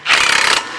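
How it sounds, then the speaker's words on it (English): Rapid ratchet clicking up close as brake caliper bolts are tightened on a Honda during an axle and outer transmission seal job, a dense burst of about half a second that stops abruptly. "Tighten your caliper bolts."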